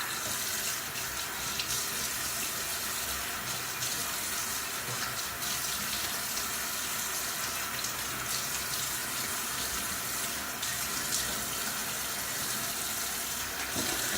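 Tap water runs steadily into a sink for a quick razor rinse after a wet shave, a continuous close splashing hiss with no voices.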